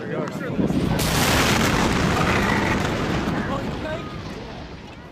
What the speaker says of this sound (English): approximately 30 tons of the stored ammonium nitrate detonated, causing a massive explosion